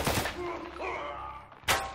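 Video game gunfire: a burst of shots at the start and another sharp report near the end, with tonal game sounds ringing between them.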